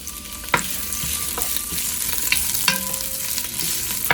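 Peppers and onions sautéing in hot olive oil, a steady close sizzle with a few spatula knocks and scrapes against the pan.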